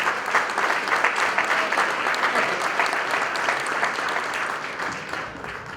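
Audience clapping at a gala fills the room, a steady dense patter of many hands that holds at an even, moderate level throughout without cheers or speech.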